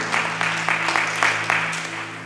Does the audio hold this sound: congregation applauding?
yes